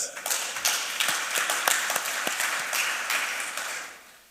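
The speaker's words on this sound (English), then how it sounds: "Can we clap for that?" An audience claps at an aquaculture conference opening ceremony in Ghana, a brisk burst of dense handclaps holding steady before tapering off at the end.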